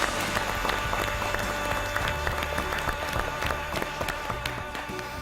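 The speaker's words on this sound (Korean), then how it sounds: "박수로 맞이해 주시기 바랍니다." Middle school students applauding in a history class: brisk, loud clapping from a roomful of pupils, sustained and fairly close throughout with crisp individual claps standing out.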